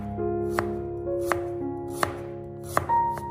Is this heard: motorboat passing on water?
no